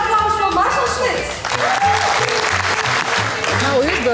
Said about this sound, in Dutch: Mag ik nog een laatste applaus voor Marcel Smit?